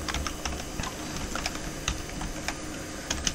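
Typing on a computer keyboard, a steady run of light plastic key clicks at close range with slightly uneven rhythm and no voices.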